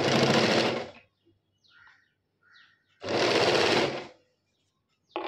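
A sewing machine stitches the neckline piece of a jacket in two loud, steady whirring runs of about a second each, with a short quiet pause and faint handling sounds between them.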